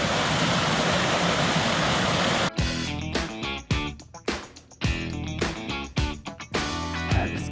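A mountain stream on the Colorado Trail rushes loudly and steadily for about two and a half seconds before giving way to other, choppier sounds.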